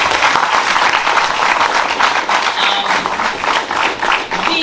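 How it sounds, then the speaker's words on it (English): Audience at a business ball applauding, a dense, loud, sustained burst of clapping filling the room, with little talk. "I don't believe that applause was enough for them."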